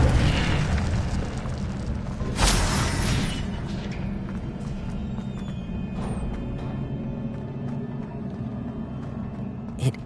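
Incendio fire spell cast in Hogwarts Legacy, a sharp burst around the start followed by a low rumbling roar and crackle, with a smaller pop near the end over steady game ambience.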